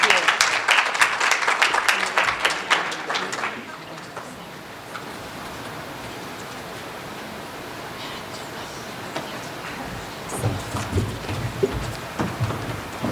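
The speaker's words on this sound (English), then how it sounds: "let's give Sam and his panelists a big round of applause" Applause for panelists at a United Nations event breaks out loud and dense, then fades after a few seconds. Later, a second burst of clapping rises alongside talking.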